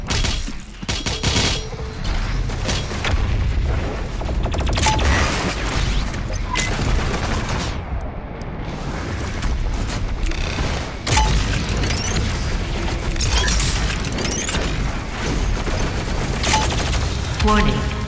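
Heavy weapon fire in the Doom Eternal video game, the BFG-10000, with dense booming blasts and crackling bursts filling the whole stretch, loud and continuous with a brief dip midway.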